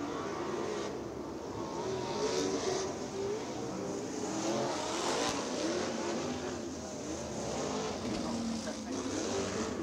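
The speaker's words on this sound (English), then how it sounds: "Cars beginning to line up." USAC sprint car engines at Lawrenceburg Speedway, a fairgrounds dirt track, drone and rev at a distance as cars line up, a steady roar beneath an announcer speaking over the public address.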